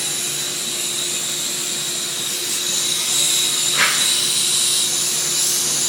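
An Altrazero air plastic welding tool runs at about 10 PSI, giving a steady airy hiss with a high whine, with a brief swelling rush partway through.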